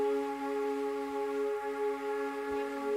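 A dirty, grainy tape loop of orchestral woodwinds, played dry with no reverb: steady sustained harmonic tones hold evenly throughout at moderate level, with no voices.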